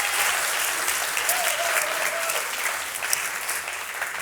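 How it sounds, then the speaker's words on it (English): Audience applause at a televised competition show, steady sustained clapping from a studio crowd at moderate level, with a brief faint whistle partway through. "Round of applause again, please, ladies and gents."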